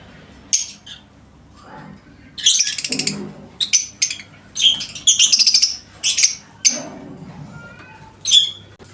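Lovebirds in an albino breeding setup chirp and squawk in sharp, bright bursts, several calls overlapping in quick irregular clusters, close and loud with faint background clatter and no talk.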